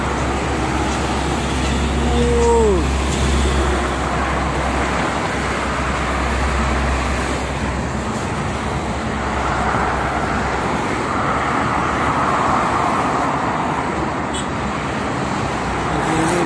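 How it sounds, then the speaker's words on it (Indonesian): Freight truck traffic on the Jakarta-Cikampek toll road in the morning, a steady loud roar of passing heavy vehicles with a low engine rumble early on and continuous road noise throughout, no talk. "Kebanyakannya truk ke barat maupun ke timur, ini truk ya, truk angkutan."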